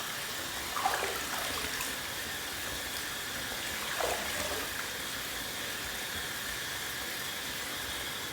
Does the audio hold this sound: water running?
yes